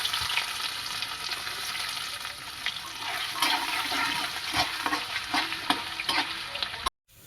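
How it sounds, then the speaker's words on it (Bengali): Small pieces of coconut are lightly fried for a Kali Puja bhog khichuri, a close crackling sizzle with scattered pops and stirring clicks, cutting off abruptly near the end. "তো আমি টুকরোগুলো একটু হালকা ভেজে নেব প্রথমে"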